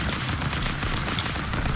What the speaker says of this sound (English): He's flying by shooting the gun.